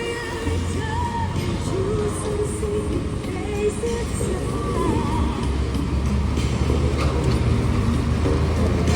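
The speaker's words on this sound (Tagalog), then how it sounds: "bago-bago pa yung truck oh, ng garbage truck oh" A new garbage truck on a city road in traffic, its low engine drone running steadily beneath general street noise, fairly close and continuous, with scattered faint distant voices and clatter.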